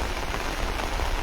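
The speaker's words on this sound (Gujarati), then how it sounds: "મુશળધાર વરસાદ જે રીતના વહેલી સવારની શરૂઆત થઈ અને એવી જ રીતના હાલ આ વરસાદ આવી રહ્યો છે" Heavy early-morning downpour pouring steadily in a continuous dense hiss, with no voices or thunder.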